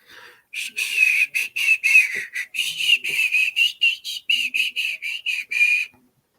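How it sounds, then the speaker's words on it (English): A person whistles a bright, lively tune of quick repeated notes, clear and close, with short pauses between phrases. "That's my whistle."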